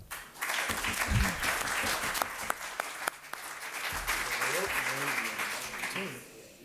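An audience at a Spanish-language round-table discussion applauds, a dense sustained clapping that swells, holds for several seconds and fades, with a voice speaking over the end.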